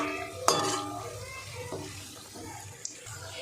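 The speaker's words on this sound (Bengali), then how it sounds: "একবার আমি 5টা সিঙ্গাড়া দিয়েছি, দেখুন ভাজা হচ্ছে কত সুন্দর।" Five cauliflower singaras (samosas) fry in moderately hot oil in a home kitchen, a soft, continuous sizzle with occasional clinks of a utensil against the pan.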